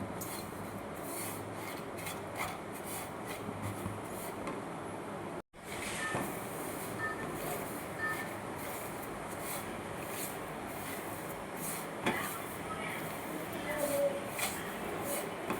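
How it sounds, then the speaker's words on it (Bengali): Semolina is stirred as it dry-roasts in a pan, a soft continuous scraping and rubbing with quiet irregular strokes, faint and close, with one brief silent break partway through. "হাতে সময় করে নিয়ে সুজিটা ভালো করে নাড়াচাড়া করে নিতে হবে"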